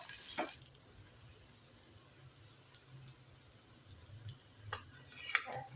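Shallots, curry leaves and a dried red chili sauté in a pan, giving a quiet, low sizzle with occasional light scrapes and taps of stirring; no one speaks.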